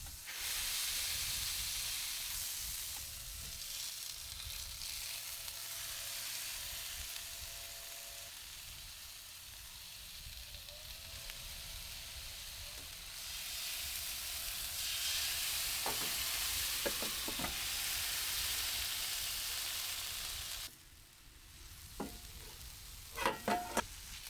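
An Oklahoma onion burger cooking on a Ninja Woodfire grill gives a continuous hissing sizzle that swells and eases, with a few scraping clicks and knocks near the end.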